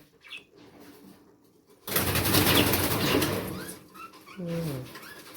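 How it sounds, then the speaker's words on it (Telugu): A flurry of wing flapping and rustling, then a pigeon gives a short, low coo near the end, close by, inside a washroom where birds roost. "దీంట్లో బర్డ్స్ ఉంటాయి అన్నమాట"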